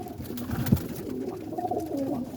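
Roller pigeons coo softly close by, a few low rolling coos with a brief flutter or thump, heard faintly over quiet background noise.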